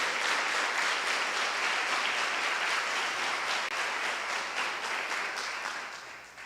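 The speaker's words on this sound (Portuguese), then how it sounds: "pode aplaudir mesmo" Applause from a Catholic congregation during a priest's reflection, a dense, loud wash of many people clapping that holds steady and then begins to thin and fade toward the end.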